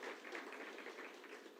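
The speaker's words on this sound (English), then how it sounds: "I think it deserves a round of applause" A round of applause for learners at a 2025 matric results announcement by the Gauteng Department of Education: steady, fairly faint clapping from an audience, sustained evenly throughout with no voices.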